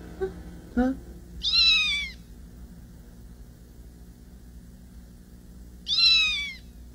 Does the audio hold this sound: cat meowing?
yes